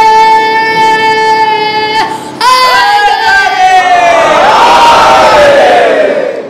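A majlis audience roars back in unison after a sustained religious slogan call, the long held shout followed by a loud massed crowd response swelling and holding in a large imambargah hall.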